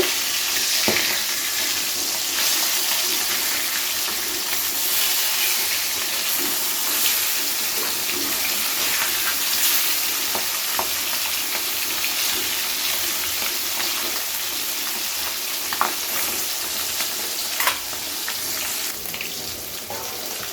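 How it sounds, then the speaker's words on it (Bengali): Continuous hissing sizzle of katla fish frying in a pan, with occasional light scrapes and taps against the pan, no talking. "সব মাছ কিন্তু একসাথে ভাজা যাবে না, দুভাগে ভেজে নেবো আমি"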